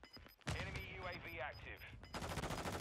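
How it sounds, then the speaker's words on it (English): Dense video-game gunfire crackles continuously at moderate distance, rapid bursts blending together, with voices talking over it. "I'm getting shot from the other side."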